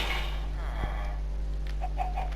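Chicken in the video game Minecraft giving short, soft clucks toward the end over a low steady hum.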